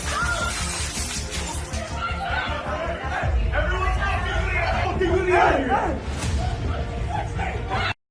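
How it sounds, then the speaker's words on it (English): Glass breaks amid a scuffling, shouting crowd at Toronto Metropolitan University, with sharp crashes cutting through dense chatter and raised voices throughout. "You could hear that there's broken glass."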